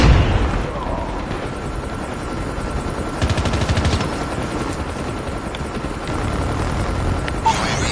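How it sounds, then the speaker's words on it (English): An enemy stealth chopper in Call of Duty Mobile rumbles through a dense wash of rapid automatic gunfire and explosions, a steady loud roar of battle noise throughout. "Hostile stealth chopper inbound."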